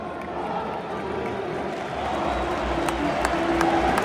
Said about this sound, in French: Et c'est même applaudi, regarde.